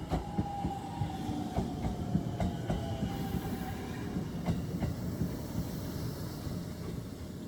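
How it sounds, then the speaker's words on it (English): A JR train pulls into rural Narai Station on the Nakasendo, its steady rumble and rail clatter filling the scene, with sharp wheel clicks and a faint high squeal as it rolls in close, no voices over it. "Here's the train arriving now."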